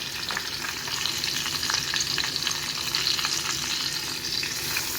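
Garlic and curry leaves frying in hot oil, a steady close sizzle with crackling pops and occasional stirring, no voices.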